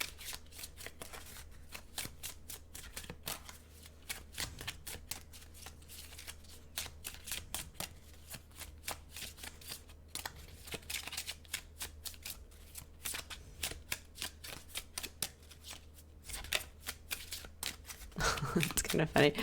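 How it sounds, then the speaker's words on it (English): Tarot cards being shuffled close up, a long run of quick papery riffles and flicks in irregular bursts, with a person speaking quietly throughout. "as I'm shuffling the cards"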